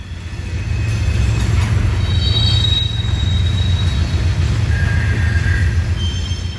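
A Florida East Coast freight train rolls past at close range, a loud steady rumble of railcars with wheel squeals rising and fading over it throughout.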